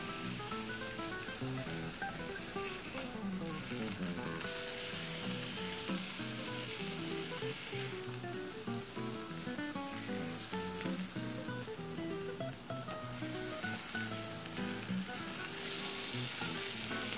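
Beef fillet strips fry in a pan with a steady, dense sizzle that crackles continuously, close and even, and a few faint clinks of stirring, with no voices.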